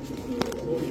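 A green-necked pigeon gives a soft, brief coo at a busy pigeon market, heard close but low against a murmur of background noise.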